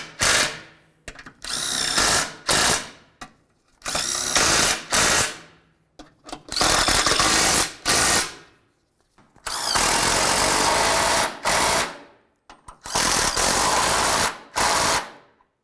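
A power tool tightens bolts on a Dodge Journey engine mount, firing in loud, close bursts of whirring and rattling impacts separated by short pauses.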